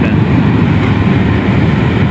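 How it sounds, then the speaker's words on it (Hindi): A long cargo freight train rolls past close to a railway station, its loud, steady low rumble filling the whole stretch without a break and with no talk over it. "ये जा रही है ट्रेन जी"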